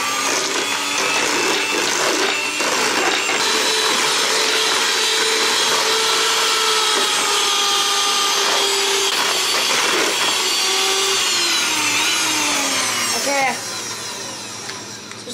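Electric mixer beating butter for a white egg layer cake batter, a loud steady whirring drone that runs nearly unbroken and close by, easing slightly near the end, with a voice talking over it.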